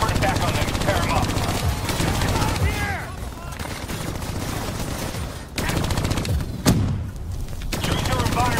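Sustained, loud gunfire from a hijacked turret in the video game Call of Duty: Black Ops 3, rapid automatic bursts running almost continuously over game noise and explosions.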